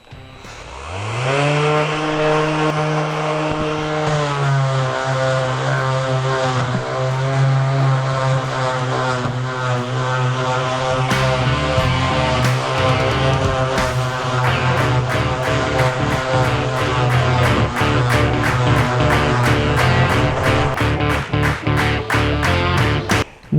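A cordless APRO sander with a brushed motor whirs steadily at maximum speed with a constant tonal motor whine, spinning up at the start and then running loud and continuous.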